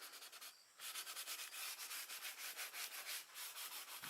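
Coarse 100-grit sandpaper scrubs back and forth across a 1996 SN95 Mustang spoiler in quick, even strokes, a close rhythmic rasp after a short pause near the start.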